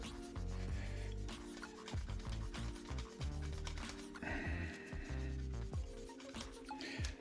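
A cloth rubs and scrapes over an AMD CPU cooler to wipe off old thermal paste, producing close, repeated short rasping strokes with small clicks and knocks between them.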